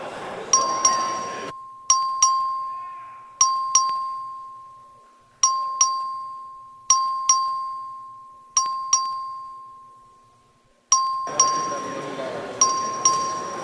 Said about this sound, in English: The clerk will please ring the bell.